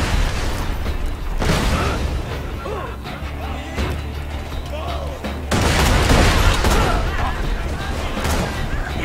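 Enemy grenades and gunfire in the video game Borderlands 2, with rapid bursts of shots and booming explosions crowding together, loud and dense, swelling toward the end as a voice talks over the fighting.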